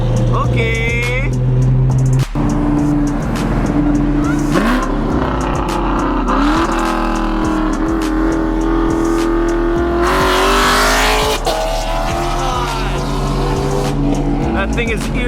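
A loud car engine revs hard at a car meet, with pops and a sustained roar across most of the stretch, while people talk and shout nearby.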